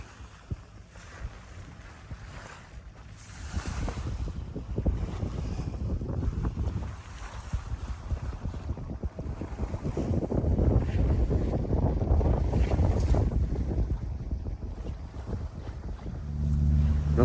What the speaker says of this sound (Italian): sentite come il mare infrange sulla barca